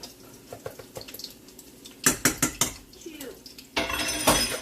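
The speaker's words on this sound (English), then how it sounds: "Whisk it up so that you get rid of any of the lumps." Whisk clattering fast against a bowl as sauce is beaten smooth, bright close metallic scraping in bursts, with a brief spoken word early and a wetter stretch of stirring near the end.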